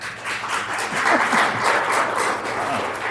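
An audience at a church question-and-answer session breaks into applause, a dense wash of clapping that swells after a second and then holds steady.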